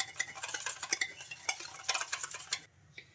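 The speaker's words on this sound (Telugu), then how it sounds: "ఇవన్నీ బాగా కలిసిపోవాలి. పెరుగులో పాల పౌడర్, సాల్ట్, పెరుగు అంతా మిక్సింగ్ అయిపోవాలి." Yogurt, milk powder and salt are stirred together in a bowl for rumali paratha dough, rapid close scraping and clinking of a utensil against the bowl in an uneven rhythm, stopping near the end.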